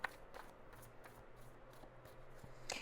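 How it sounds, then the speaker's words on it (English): A deck of tarot cards is shuffled by hand in quick, soft riffling bursts, close and quiet, with no voices. "Watch when I shuffle these damn cards."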